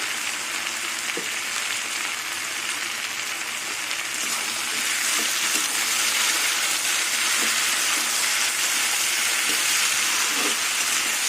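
Kundri frying with potato and onion in a covered pan, a steady loud hissing sizzle throughout with occasional faint clicks and taps.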